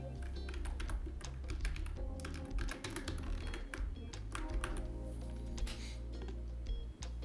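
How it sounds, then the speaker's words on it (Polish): Rapid, light clicking of keys on a computer keyboard during a lecture, typed in quick bursts at close range, with a faint steady hum underneath. "Ja tu wpiszę oczywiście poprzednią."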